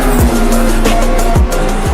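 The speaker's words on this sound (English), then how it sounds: "a little bit of contact there with that yellow Mercedes," Sim race cars at an endurance event, one spinning after contact with a yellow Mercedes, roar loudly up close with sharp tire squeals and quick passing whooshes over a couple of seconds.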